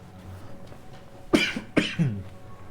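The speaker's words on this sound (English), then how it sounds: "I am just on a coughing fit today." Two sharp coughs, close and loud, about half a second apart, over a quiet background.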